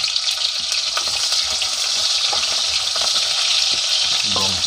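Sliced spring onion frying in hot oil for a giant freshwater prawn curry, a bright steady hiss of sizzling with a few faint utensil knocks, close and fairly loud, no voices.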